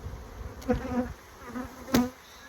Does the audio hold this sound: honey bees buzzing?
yes